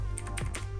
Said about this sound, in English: I love the way this sounds, though. Hear that? Mechanical keyboard.